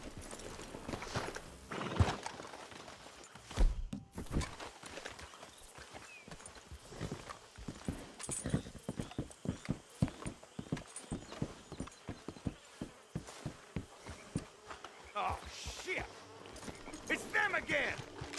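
Horse hooves in Red Dead Redemption II clop in a steady walking rhythm, close by, with buzzing insects and occasional talk around them.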